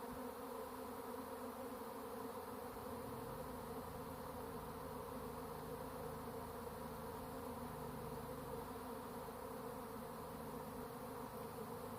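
A swarm of honey bees fills the air with a dense, continuous buzzing hum, steady and fairly close, with no talk over it.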